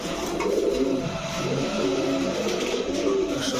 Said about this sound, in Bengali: ছাড়ার সাথে সাথে কিন্তু নটটা ডাকে ডাকি শুরু করে দিছে